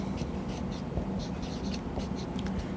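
Marker or chalk scratches across a lecture board in short repeated strokes, moderately faint and close, against a steady background hum.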